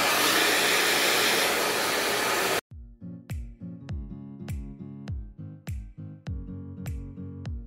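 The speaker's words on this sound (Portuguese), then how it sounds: "Agora eu vou secar por cima, dar uma secada de leve por cima do meu cabelo" A hair dryer blows a loud, steady hiss while drying hair, then cuts off abruptly after about two and a half seconds. A series of ringing musical tones follows.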